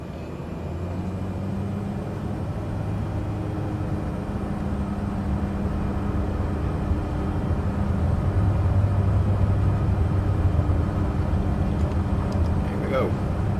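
A single-engine propeller airplane in Microsoft Flight Simulator 2024 rolls down the runway in the Spanish mountains, a steady loud droning engine hum with a strong low tone that swells slightly as it picks up speed, with no talking.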